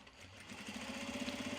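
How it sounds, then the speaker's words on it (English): A sewing machine runs a steady, fast stitching rhythm while top stitching a sling bag, quietly and close up, with no talk. "Top stitching again."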